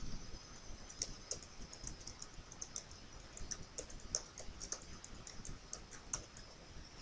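A computer keyboard is typed on in quick, light, irregular taps, faint and close, entering a search.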